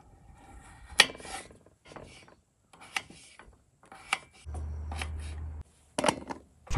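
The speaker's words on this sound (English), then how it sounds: "we're gonna get our potatoes cut up real quick" Potatoes are cut up at a van campsite: several sharp, close cutting clicks and scraping strokes come in separate bursts with short quiet gaps, and a brief low hum partway through.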